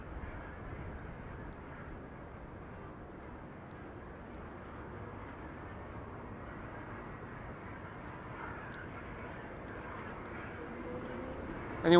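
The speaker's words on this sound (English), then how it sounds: "EasyJet coming in from Liverpool now, A320" An EasyJet Airbus A320 arriving from Liverpool on a sunny day at Amsterdam Schiphol produces a steady, faint jet roar that rises slightly at the end.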